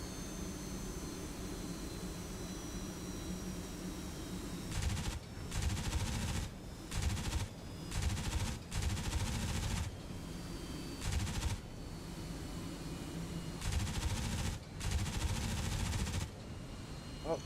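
Heavy .50 caliber machine guns fire in repeated long bursts during a Cold War-era flight combat video game, loud over a steady aircraft engine drone.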